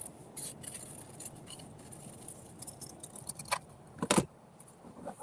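Scissors snipping paper shapes such as squares and arches for a craft collage, a few short, soft cuts at close range with quiet rustling and no talk.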